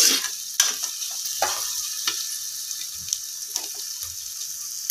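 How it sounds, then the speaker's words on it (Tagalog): Vegetables for a cabbage dish sizzling in a pan with spatters, steady hiss broken by scattered pops and stirring strokes, close and fairly loud, no talking. "Haluin natin. Yan, tatalsik-talsik na siya."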